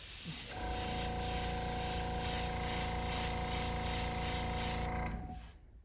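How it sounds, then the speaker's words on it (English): A paint spray gun lays even coats of candy blood red onto a custom 1964 Chevy Nova gasser wagon, giving a loud, steady hiss with a pulsing pass rhythm from an air-driven tone, then cutting off near the end. "So let's spray some candy blood red."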